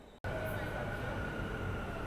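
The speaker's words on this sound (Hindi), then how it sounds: "देखो ट्रेन की अराइवल जो है वो हो चुकी है।" A Delhi Metro train at the station on the way to IGI Airport Terminal 3 rumbles steadily with a high whine, loud and close after a brief cut, with people talking over it.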